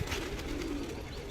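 Pigeons coo in a low, continuous rolling murmur, close and steady throughout, with no voices.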